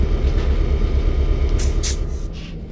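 A Milwaukee Road Little Joe EF4 electric locomotive moves a heavy train close by at Avery with a deep continuous roar, joined near the end by sharp hissing bursts like air brakes.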